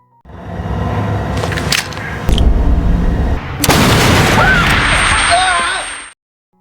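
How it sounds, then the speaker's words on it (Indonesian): A loud explosive blast of a thrown grenade bursts out partway through, booming and rumbling amid busy film action-scene noise and gunfire impacts. "Yihun langsung melemparkan granat ke arah Andrew."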